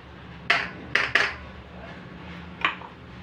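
A mixer jar clatters against a plate as ground poha powder is tipped out, heard as four sharp metallic clinks: one, then a quick pair, then a last one after a pause, close and clear over quiet room tone.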